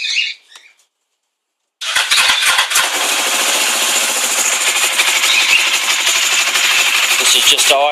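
A Suzuki GS500 motorcycle with a K&N lunchbox air filter starts cold. A brief faint clatter and a pause lead into the engine catching, then it settles into a loud, steady, close running roar for several seconds.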